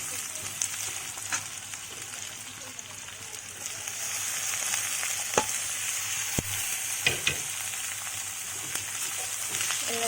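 Carrot and capsicum stir-frying with chicken bones in a hot pan, a steady close sizzle with occasional sharp scraping stirs and clinks as the vegetables are tossed.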